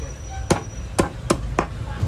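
Four sharp chopping thuds in quick succession as a machine cuts up a village chicken, each a crisp hard strike against steady background hum.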